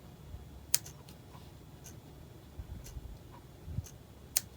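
Scissors snip thread tails on a slow-stitching fabric block with a few sharp, close clicks spaced irregularly over a quiet background.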